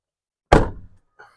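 A door on a Chevy Tahoe duty chief fire vehicle swings open with a single solid thunk, followed moments later by a faint short click.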